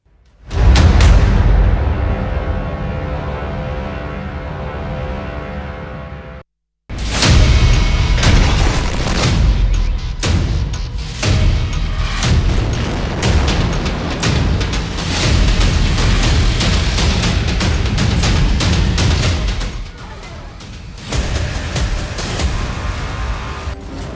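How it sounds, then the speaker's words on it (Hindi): Heavy booming blasts, loud and rumbling, the first dying away into a brief silence before a second long stretch of dense, roaring explosions. "दुश्मन पर इजरायल का पहला धमाका। दुश्मन पर इजरायल का दूसरा धमाका।"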